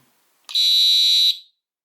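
A FOX 40 electronic whistle on tone 1 gives a single loud, steady, piercing electronic tone lasting under a second, starting and stopping abruptly with no voices.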